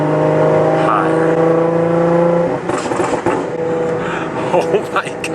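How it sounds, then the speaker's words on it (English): A stage 2 tuned Audi S4 revs near 3,000 RPM with a steady droning exhaust note, then lifts off into a crackling burst of pops and burbles. A voice speaks close by. "So there's the burbles."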